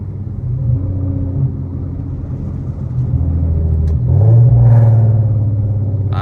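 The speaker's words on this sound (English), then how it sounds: "This car with the tune, the pops and the burbles and the flames." A tuned Infiniti Q50 3.7 with a loud aftermarket exhaust rumbles deeply, then climbs under acceleration into a louder, rasping surge with a brief crackling burst, heard close up without talking.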